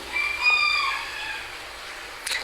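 A chicken clucks and gives a thin drawn-out call in a storybook-style effect of a clay bird coming alive, fairly faint over a quiet background, with a brief rustle near the end.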